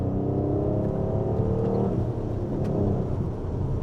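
An Alfa Romeo GT V6 accelerates from low revs, a deep, steady engine drone heard from inside the car that rises slightly in pitch, continuous and fairly loud with no speech.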